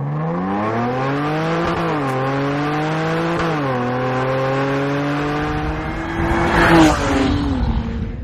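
A Jaguar XE S sports sedan engine revs hard and climbs through the gears of its 8-speed automatic, pitch rising, dipping at each shift, then rising again before a rushing whoosh near the end.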